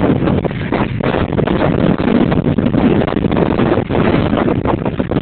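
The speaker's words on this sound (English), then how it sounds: "It's pretty windy here" Strong wind gusting across the microphone around an old iron-town ghost town site, a loud continuous buffeting roar with no voices.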